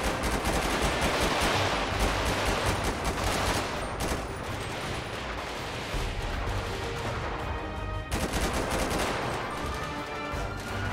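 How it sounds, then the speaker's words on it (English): Sustained gunfire rages during a SWAT police shootout in the GTA 5 LSPDFR mod, a dense, near-continuous barrage of rapid automatic shots, loud and close, with a brief dip before the firing surges again. "We're shooting all of them, guys."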